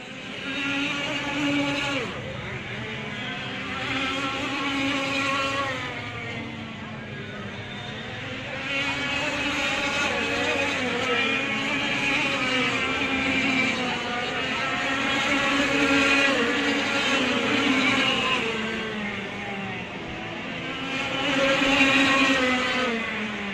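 Highly tuned racing karts scream past on a lap at Whilton Mill, their high-revving engines rising and falling in waves as several machines pass close by in succession.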